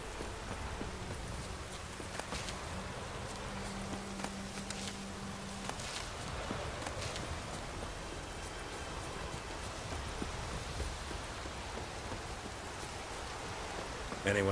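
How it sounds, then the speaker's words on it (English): Steady rainfall hisses across the whole stretch in the open world of The Witcher 3, a dense broadband wash with a soft low tone and occasional clops, while a voice talks over it. "Let it rain."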